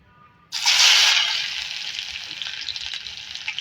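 Onions and green chillies hit hot mustard oil in a pan with a sudden loud sizzle. The hiss stays strong, then eases into a steady, crackling fry, heard close up.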